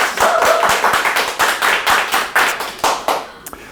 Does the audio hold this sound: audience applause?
yes